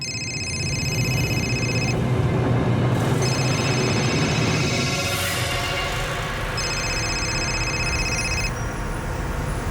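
A telephone rings in repeated bursts with short pauses between them, over a steady background hiss and rumble, with no one speaking.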